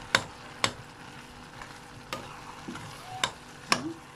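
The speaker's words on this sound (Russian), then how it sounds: "Перемешиваю." A spoon scrapes and clinks against a pan while stewed cabbage with a little sugar is stirred, giving sharp periodic knocks over a soft, steady simmering sizzle.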